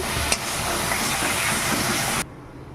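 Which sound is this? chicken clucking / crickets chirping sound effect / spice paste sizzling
spice paste sizzling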